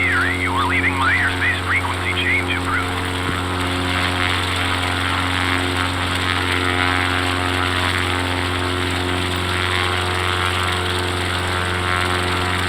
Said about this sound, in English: Cub Crafters Alpha Sierra X-ray Golf Sierra frequency change